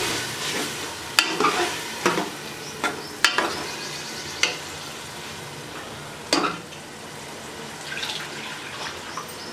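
Masoor dal stirred and fried in a pot, a low steady sizzle with scraping spoon strokes and several sharp clanks against the metal at irregular intervals, close by.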